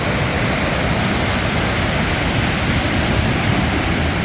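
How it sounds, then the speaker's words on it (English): Fast white water rushing across a five-foot river crossing on the Pacific Crest Trail, a loud, steady, broadband roar that fills the whole moment with no pauses or voices. "That's a 5-foot stretch through that white water that's really moving."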